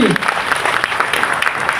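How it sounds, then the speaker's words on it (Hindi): A university audience breaks into loud, sustained applause for a visiting law minister, many hands clapping in a dense even roar, with a voice briefly audible at the very start. "ताली तो बजाओ भाई"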